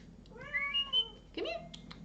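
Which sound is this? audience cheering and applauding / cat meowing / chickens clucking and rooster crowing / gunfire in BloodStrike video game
cat meowing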